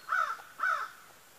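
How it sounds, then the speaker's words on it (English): Two harsh caws from crows ring out outdoors beside a swamp, moderately distant, with a short pause between them and quiet air after. "Got the crows caterwauling over there, but sounds of nature"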